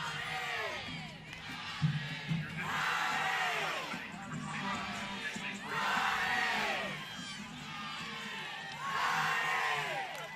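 A softball stadium crowd at an Ole Miss versus Alabama NCAA game cheers and yells in loud surging waves, swelling and easing several times with whoops throughout.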